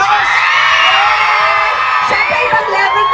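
A large crowd at a live Lazada promotional show in the Philippines roars with whoops, cheers and shouting, loud and sustained throughout.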